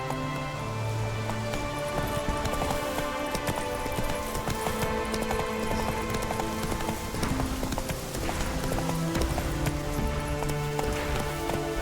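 Roach, the horse in The Witcher 3, gallops with fast, driving hoofbeats that stay loud and steady throughout, layered with orchestral music and a patter like rain.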